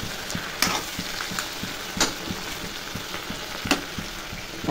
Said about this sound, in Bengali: তাই এগুলো ভেজে দিচ্ছি